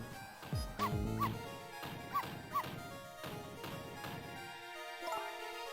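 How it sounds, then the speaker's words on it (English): A dog barks repeatedly in the video game Ghost Trick: Phantom Detective, a run of loud, close yips and bow-wows with short whimpering edges, then tapering off into quieter game sounds. "No, Missile, you're not supposed to bark."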